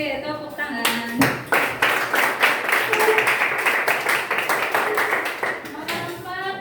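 A class of students at an Islamic junior high school claps together in a fast, rhythmic patterned applause, loud and close, with voices briefly at the start and end.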